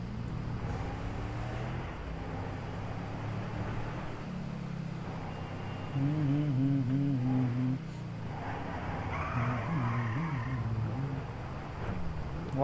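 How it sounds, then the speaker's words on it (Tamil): A car in GTA 5 drives with a steady engine drone and changing revs, and a tire squeal marks a skid partway through, all at a constant level. "What a skid."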